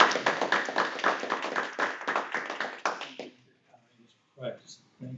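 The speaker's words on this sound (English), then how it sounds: "give Dan a beginning round of applause" A small group at a committee meeting claps in a short round of applause, about three seconds of brisk close hand claps that stop abruptly, followed by brief murmured talk.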